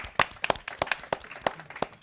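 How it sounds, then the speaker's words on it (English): A small audience gives a brief round of applause at a tech sales career talk, a short burst of separate, scattered claps heard close up with no talking. "Round of applause."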